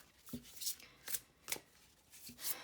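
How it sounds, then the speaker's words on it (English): Tarot cards from the Muse Tarot deck are shuffled by hand nearby, making several crisp riffling bursts spaced about half a second apart in a quiet room. "So I'm going to shuffle your cards"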